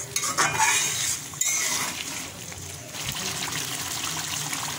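Potatoes are stirred and sautéed in a pan for Rangpur-style egg and potato dal, starting with sharp clattering scrapes of a utensil, then settling into a softer, steady sizzle and stir.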